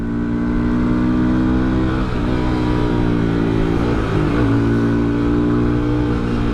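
Two XPulse motorcycles, a 200 4V and a 230 2V, cruise in third gear along the Himalayan Expressway, their engines droning loud and steady with a sustained low rumble and slight pitch shifts throughout.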